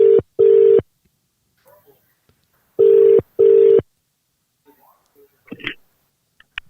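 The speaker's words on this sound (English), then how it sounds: "it's ringing. There we go. We've got the ringing." An outgoing telephone call rings back in two double-burst ring cadences, loud and clean in the earpiece line, followed by faint clicks and a brief rustle.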